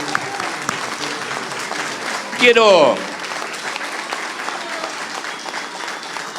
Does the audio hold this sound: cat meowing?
no